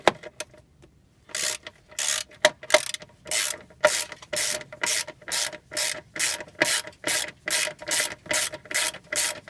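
A hand ratchet clicks in quick repeated bursts while backing out a 10mm bolt, each stroke a rapid run of pawl clicks with short pauses between, close and loud.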